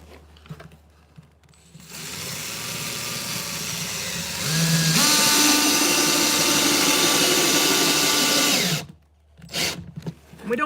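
A power drill drives screws into the wooden frame of a hybrid gold rocker box, a steady loud whine that rises in pitch and intensity midway, running several seconds alone before stopping abruptly, with faint handling sounds around it.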